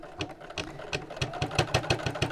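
A sewing machine set to stitch length 3, still on an old needle, runs a seam around the top of a piece, its steady rapid clatter pulsing about four times a second, close and unaccompanied.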